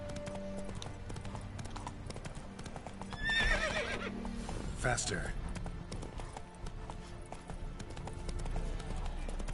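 Roach the horse galloping in The Witcher 3, with steady rapid hoofbeats, a whinny in the middle and ghostly effects, under a voice speaking.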